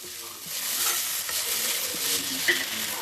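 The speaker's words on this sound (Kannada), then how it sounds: "ಸೊ ಒಂದು ಸ್ವಲ್ಪ ಸಿಮ್ ಮಾಡಿಕೊಂಡು ನಿಧಾನಕ್ಕೆ ಫ್ರೈ ಮಾಡ್ಕೊಳ್ಳಿ" Vegetables for paneer fried rice frying slowly over low heat, a continuous soft sizzle with light stirring, close and without speech.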